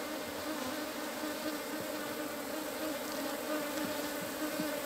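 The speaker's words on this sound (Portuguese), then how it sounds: "porque tem muita quantidade de abelha aqui" A thick, steady hum of many Apis honey bees crowding a hive frame, close and loud, droning without pause and with no voices.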